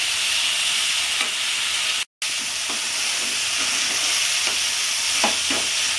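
Spice paste for a Bengali-style bata fish curry fries in oil with a loud, steady sizzle, broken by a brief cut to silence and by soft scraping strokes of a stirring spoon in the pan.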